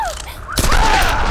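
A burst of gunfire in the action video game Tomb Raider (2013), a sharp loud blast that cuts in suddenly after a brief quieter stretch and is followed by ringing, echoing decay.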